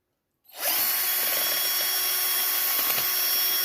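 A power screwdriver drives a screw, starting abruptly and whirring steadily and loudly at close range with no pause or talk.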